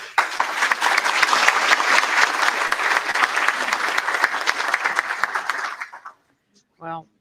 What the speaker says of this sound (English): round of applause for Judge Dick